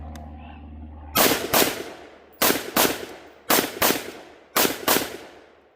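Gunfire from a magazine dump on a shooting range, coming as four loud, close clusters of rapid paired shots, each cluster followed by a short pause, with a low hum underneath before the first burst.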